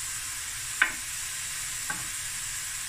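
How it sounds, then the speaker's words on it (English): Cut-up danya sausage pieces sizzle steadily in a pot on the stove, a constant close frying hiss with two brief stirring clinks, no voices. "So I'm going to allow this to now sweat down and cook a bit."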